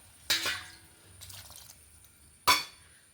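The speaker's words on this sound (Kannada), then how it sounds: "ಇನ್ನೊಂದು ಕಪ್ಪು ನೀರು ಹಾಕೊಂಡ್ಬಿಡುವ" Water from a cup splashes into a ridge gourd curd curry in two short, sharp bursts a couple of seconds apart, with a faint trickle between them and quiet room tone.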